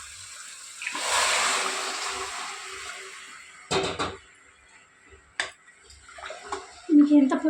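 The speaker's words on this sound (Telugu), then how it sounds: "ఇప్పుడు మనం నీళ్ళు పోసుకుందాము." Water is poured into a pressure cooker holding fried mutton paya, a rushing splash for a couple of seconds followed by scattered clinks and knocks of utensils, close up.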